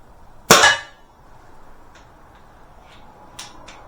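A single sharp crack from an air pistol, either a Webley Tempest or a Beeman P17, with no one talking. Faint clicks and ticks follow as the gun is handled.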